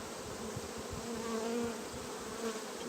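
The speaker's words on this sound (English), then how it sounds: "These bees aren't happy." Honey bees buzzing around an open hive during queen grafting, a dense continuous hum of many agitated insects close by, faint but steady throughout.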